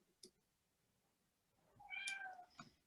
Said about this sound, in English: I'll be on mute so you guys won't hear cats the whole time.